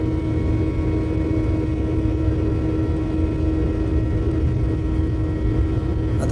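Jet engines of an airliner mid takeoff roll on a Mumbai runway, a continuous loud cabin-side roar with a steady hum and rumble throughout, no voices.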